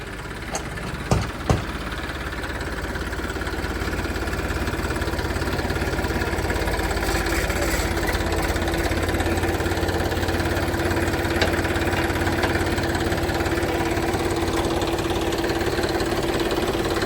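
A Massey tractor engine runs steadily close by, a continuous loud mechanical drone with a knocking undertone and a couple of sharp clicks near the start.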